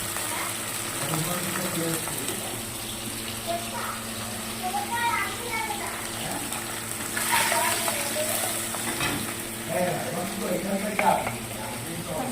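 Bata fish sizzles steadily in hot oil in a home kitchen, a continuous frying hiss with occasional spatter. Faint voices can be heard in the background.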